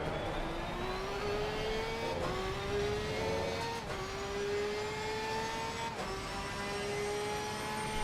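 A Mercedes GT race car in Assetto Corsa Competizione screams at high revs, its pitch climbing steadily and dropping sharply at three upshifts, loud and continuous.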